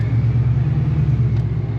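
The engine of a 600 horsepower, 2500 lb Fox Body car idles nearby with a deep, steady, lumpy rumble that never lets up.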